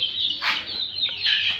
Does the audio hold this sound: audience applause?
no